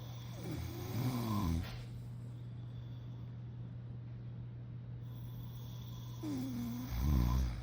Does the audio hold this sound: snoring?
yes